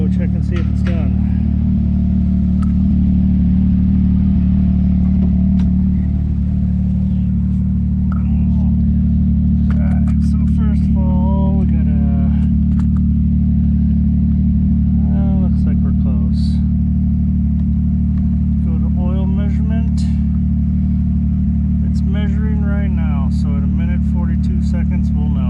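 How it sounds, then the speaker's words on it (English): A Porsche 991.2 GT3 RS sits warming up at a steady idle, its loud, even engine drone running throughout while people talk over it now and then. "we've been letting this car sit here and idle for a while, warm up, so we can do an oil measurement"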